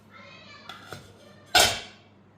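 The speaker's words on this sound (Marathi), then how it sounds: "आता याच्यामध्ये आपण आपली प्लेट ठेवून घेऊया" A metal plate is set down inside a preheated kadhai for baking nankhatai, giving two light taps and then a sharp ringing clank that fades over about a second, close and clear with no talk.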